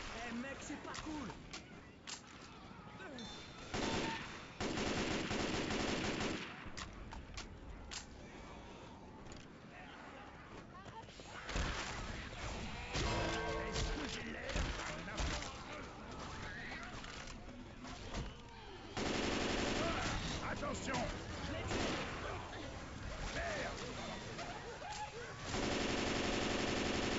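Left 4 Dead 2 gameplay is full of rapid automatic gunfire bursts and single shots, loud and dense, mixed with chaotic game effects while players talk over the action.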